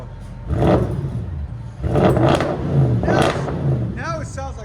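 A 2013 Audi S6 with a 4.0-litre twin-turbo V8 and muffler-deleted exhaust revs in three loud, rising bursts close by, followed by a short pause.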